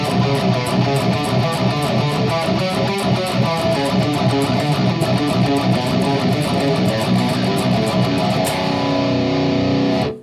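Heavily distorted electric guitar plays a fast thrash metal riff with alternate picking, a dense, loud, unbroken chug lasting about ten seconds before cutting off abruptly.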